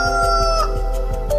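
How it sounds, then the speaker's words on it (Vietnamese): A cartoon rooster crows loudly and close, one drawn-out call over a steady rhythmic backing beat. "Mới 5 giờ sáng anh gà đã gáy rồi hả?"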